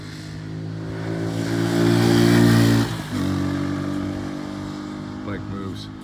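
American Lifan KPMini 150cc motorcycle ridden nearby, its engine drone rising as it accelerates, dipping briefly at a gear shift and then steadying again, with a voice talking over it.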